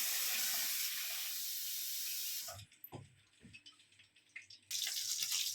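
Water runs from a tap for soaking pancit noodles, a loud steady hiss that stops midway, gives way to a few clunks and handling noises, then starts again, all close by with no voices.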